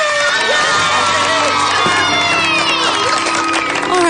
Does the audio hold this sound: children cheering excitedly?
yes